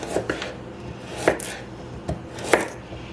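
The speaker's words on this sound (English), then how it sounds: "Okay, slicing up the second carrot" A carrot being sliced thinly with a knife on a cutting board: a few sharp, close chops spaced out unevenly, each a crisp tap against the board, with no talk.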